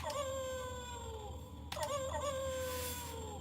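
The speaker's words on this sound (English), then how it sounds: "you can press the button. You can hear the wolves howling" Recorded wolf howls from a Kyuranger toy triggered by its button: a continuous electronic howling with a second howl cutting in midway, loud and steady over a faint background hum.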